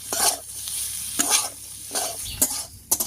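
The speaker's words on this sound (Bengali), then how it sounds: "এবার একটু ভাজা ভাজা মতো করে নেব।" Potatoes with salt and turmeric fry with a constant oily sizzle, broken by several bursts of scraping as a spatula turns them, close and fairly loud.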